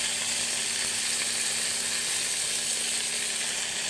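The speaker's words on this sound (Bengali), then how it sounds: "এইভাবে রসুনটা ভেজে নিলাম" Garlic fries in hot mustard oil with green chillies, a steady, dense hiss and crackle of sizzling that stays even and close throughout, with no voices.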